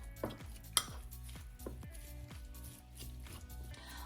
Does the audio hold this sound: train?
no